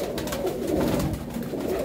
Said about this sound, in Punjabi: ਬਹੁਤ ਵਧੀਆ ਕਬੂਤਰ ਆ ਬਾਈ। ਇਹ ਦੇਖੋ ਜੀ ਕਬੂਤਰ